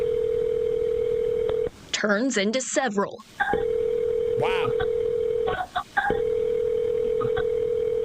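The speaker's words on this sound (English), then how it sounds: "The phone keeps ringing for nearly a minute." A telephone rings out unanswered on a 911 call recording in Milwaukee, a steady electronic tone repeating in long bursts, broken by voices talking over the line between rings.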